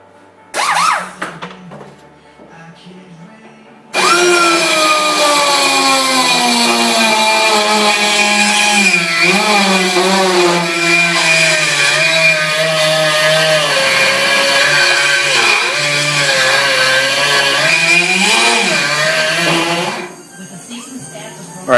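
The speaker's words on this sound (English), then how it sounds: "we were doing a little grinding there, and you can see these holes" Power grinder working on the steel body of a 1965 Ford Mustang to elongate holes, a loud continuous high whine with wavering pitch for about sixteen seconds after a short burst of earlier noise, then cutting off.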